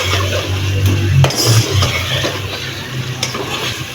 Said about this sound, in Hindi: यहाँ हम ज़रा मज़ीद पका रहे हैं चिकन के गोश्त को